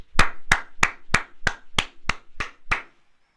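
Nine sharp, evenly spaced hand claps from a single person on a Bigg Boss 18 television show, close and loud, ending in silence.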